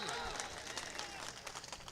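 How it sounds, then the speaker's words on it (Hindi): Loud, continuous applause from a large crowd at a mushaira (poetry gathering), dense clapping filling the whole moment with a few voices mixed in. "ज़रा एक बार ज़ोरदार तालियां बजाकर बताइए"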